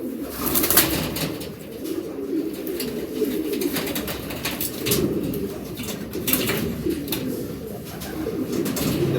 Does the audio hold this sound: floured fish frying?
no